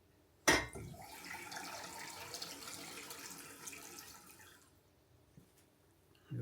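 Water poured from a tap onto sourdough rye dough in a kitchen, a sudden splashing start followed by a steady soft rushing flow for about four seconds that then trails off, faint and close.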